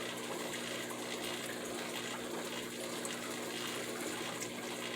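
Water drains steadily from a Daphnia moina culture container in a continuous, even gushing rush that holds at the same level throughout.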